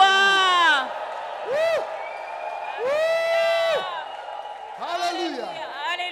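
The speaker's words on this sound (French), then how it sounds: "Give the Lord a shout of joy." A church congregation at a communion service shouts and whoops together in bursts of joyful cheering, rising and falling in waves over a loud amplified voice.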